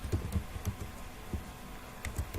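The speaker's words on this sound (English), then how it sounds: "I'm going to type key scan" Several soft keystrokes on a computer keyboard as a command is typed, scattered taps in small bursts, fairly quiet and close with no voices.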